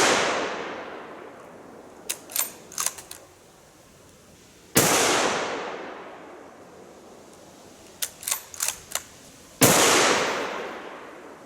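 .308 Browning bolt-action rifle fired three times at intervals of several seconds, each shot a loud sharp crack with a long decaying echo, separated by metallic clicks of the bolt being cycled.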